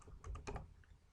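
Code is typed on a computer keyboard in a quick burst of soft, close key clicks, a few rapid taps followed by a couple of lighter ones, quiet and without speech.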